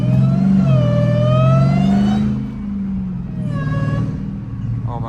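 A 1000hp Dodge Demon Charger with no hood drives with its engine droning loud and close, pitch rising and falling as it accelerates, with almost no talk over it.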